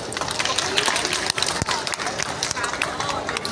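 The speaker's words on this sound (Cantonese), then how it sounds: "請我哋將最熱烈嘅掌聲送俾在座嘅每一位" Warm, dense applause from the seated audience at an opening ceremony, a steady wash of many hands clapping together at close range, continuous for the whole stretch with a faint murmur of the crowd underneath.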